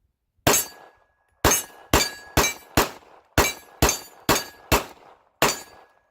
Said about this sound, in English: So here's 365, still my trusty, shooting some of my reloads.